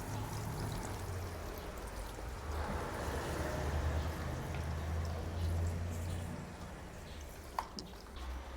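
Water sprayed from a hose onto an old Nissan Fairlady Z Z32 left neglected in a garage, a steady rushing hiss and splatter running continuously at moderate distance with no voices.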